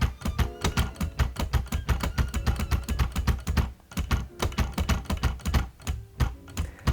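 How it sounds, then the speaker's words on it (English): Hermes 3000 manual typewriter keys striking in quick, steady rhythm, loud and close, with heavy clunks and a brief pause near the middle before typing resumes. "Shift caps lock has a gorgeous clunk, and a special shout out to the space bar."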